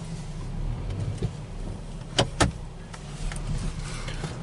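A 2015 Jeep Patriot engine idles with a low, steady hum after a cam sensor replacement, joined midway by two sharp clicks or knocks close by.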